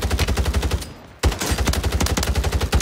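Rapid automatic gunfire in Call of Duty Warzone on Rebirth Island, loud and close, sustained bursts broken by a brief pause before firing resumes.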